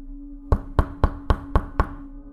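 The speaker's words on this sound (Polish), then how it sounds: "do moich uszu dobiegł odgłos pukania do drzwi." Knocking on a door, six evenly spaced sharp raps close by, heard alone over a quiet steady hum.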